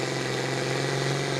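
A pulling tractor's engine idles at a truck and tractor pull, a steady loud mechanical drone with a lumpy rhythmic pulse, close and constant throughout with no talk.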